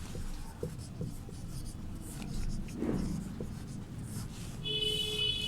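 A teacher hand-writes a question during a Class 8 Hindi lesson: continuous soft scratching strokes, close and steady, with short pauses between words and no voices.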